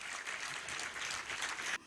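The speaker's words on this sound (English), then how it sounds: "I want us to give ourselves a hearty clap" A large seated crowd of about a thousand people in a tent at a career fair claps hands together in a brief, dense burst of applause that stops abruptly.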